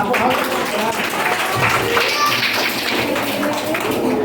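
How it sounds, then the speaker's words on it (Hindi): Loud, continuous applause from a studio audience for a contestant on a Hindi quiz show, a dense wash of clapping that holds steady throughout with crowd noise mixed in. "तालियां कहने में रौनक के लिए जोरदार तालियां।"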